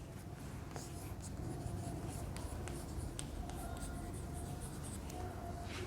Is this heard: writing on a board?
yes